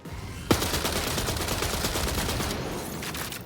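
Bully SMG fire in the video game Marathon, a loud burst of rapid submachine gun shots starting sharply and rattling on continuously for about three seconds up close.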